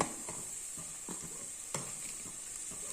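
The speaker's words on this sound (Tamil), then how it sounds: "பட்டாணி எல்லாத்தையும் கலந்து நல்லா ஒரு பரட்டு விட்டுறலாம்." A spoon stirs carrots, beans and peas in a hot pan, making a few soft scraping strokes over a steady, close sizzle of frying.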